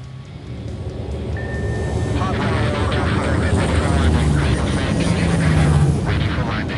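An A-10 Warthog lands on a carrier deck in a South Pacific video game mission, its engine roar swelling steadily and staying loud and close while a radio voice talks over it.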